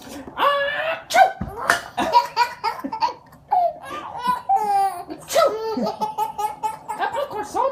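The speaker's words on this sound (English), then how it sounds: "That popcorn's salty. Makes me sneeze." A Mickey Mouse toy's cartoon voice sneezes after salty popcorn, several loud close bursts mixed among chattering, squealing character speech and laughter-like cries.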